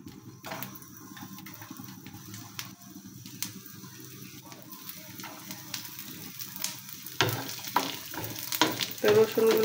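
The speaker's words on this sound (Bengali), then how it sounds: "তো রসুনগুলো আমি তেলে একটু হালকা করে ভেজে নেব।" Chopped garlic frying in mustard oil in a kadai on the stove gives a steady crackling sizzle. Spoon strokes scrape and clatter over it, growing louder and busier toward the end.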